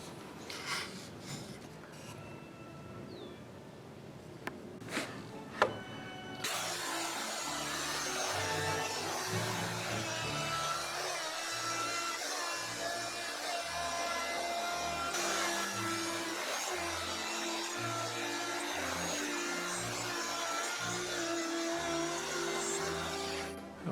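Old wood router taking shallow eighth-inch passes along a new stair handrail, starting after a few seconds of quiet shop handling and then running as a steady, loud broadband whine with a rumbling low undertone, no talk.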